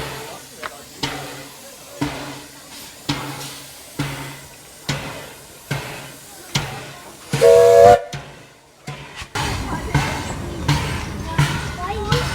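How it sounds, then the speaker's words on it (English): A steam locomotive on a Welsh mountain railway chuffs in steady, rhythmic bursts of hissing steam, gives a brief whistle, then settles into a continuous broad hiss, with people talking nearby. "It feels like rain, but it's the steam from the steam engine."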